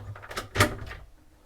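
A wardrobe door in the dressing area of a Princess Y72 yacht opens with a short cluster of soft clicks and a light thud, close by, over about a second.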